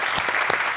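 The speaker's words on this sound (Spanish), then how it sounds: "Un aplauso para todos." An audience claps at the close of an academic congress session, a brief burst of dense applause with a few sharper individual claps standing out, close and moderately loud.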